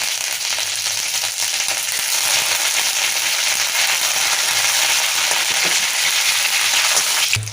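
Mustard seeds, green chillies and curry leaves fry in hot oil with a loud, dense, continuous sizzle that holds steady before cutting off abruptly at the end.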